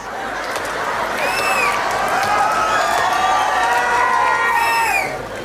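A live comedy crowd at a Shivratri fair in Baijnath cheers and whoops with scattered clapping, a loud, continuous wash of many voices that swells and then fades at the end.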